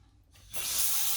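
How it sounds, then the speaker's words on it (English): Cold water poured into a bucket during insect-remains flotation work: after a quiet start, a sudden bright, hissing rush of water begins and carries on steadily, close and fairly loud. "we're going to pour cold water into the bucket"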